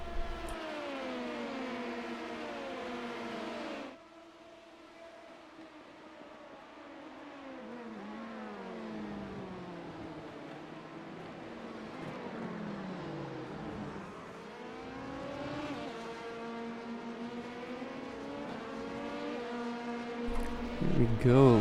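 An LMP2 prototype race car engine in a racing video game roars continuously, its pitch climbing and dropping through gear changes and braking as the car laps a circuit, loud and close throughout.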